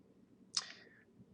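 A single quick computer mouse click while working in ArcMap, ArcGIS mapping software, sounds sharp and close against a quiet room hum.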